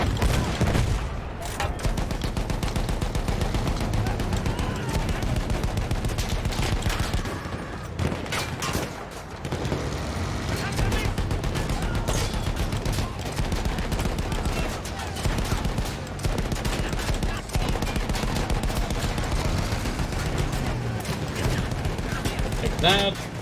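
Sustained machine gun fire and rapid gunshot bursts in the World War I shooter Battlefield 1, loud and nearly continuous throughout, with battle noise and occasional talk underneath.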